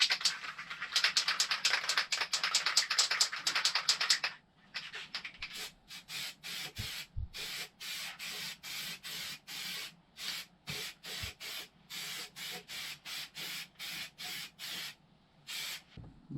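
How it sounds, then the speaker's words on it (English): Aerosol primer sprayed onto a ZX10 motorcycle frame after a wipe-down with white spirit: one long continuous hiss first, then a steady run of short, evenly spaced spray bursts, close and fairly loud, with no talking. "just get some primer on it"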